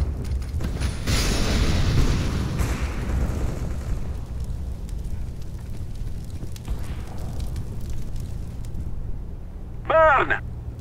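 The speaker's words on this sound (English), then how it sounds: "Molotov." In a video game, a Molotov cocktail bursts into fire with a loud whooshing roar that slowly fades into a lingering crackle, followed by a short electronic chirp near the end.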